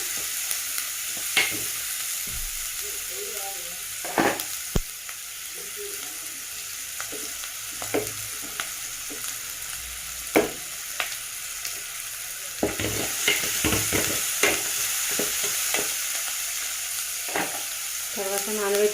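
A dish fries in a pan with a steady sizzle while a spoon stirs and scrapes it in scattered, uneven knocks, close by and with no talk.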